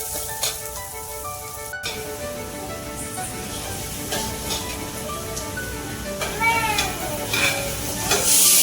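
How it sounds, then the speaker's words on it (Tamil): Onions frying in a pan with mustard seeds, curry leaves and green chillies for a sambar, a continuous close sizzle with repeated stirring scrapes and a brief sharp knock near the start. "வெங்காயம் வதங்கிடுச்சுங்க."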